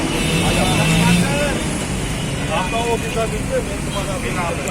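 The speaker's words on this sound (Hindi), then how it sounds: "यहाँ बहुत ज़्यादा ट्रैफिक है" Heavy road traffic in Delhi, a dense wash of engine rumble with a few tonal horn-like notes, loud and close beneath someone talking throughout.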